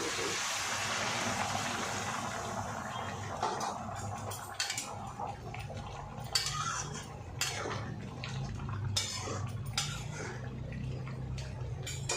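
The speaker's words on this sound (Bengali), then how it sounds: "জলটা আগে থেকেই গরম করে রেখেছিলাম এবার এখানে জল দিয়ে দেবো" Hot water poured into a cooking pan while making goat liver chorchori, a steady wet rush with scattered splashes and clinks that runs throughout at moderate loudness.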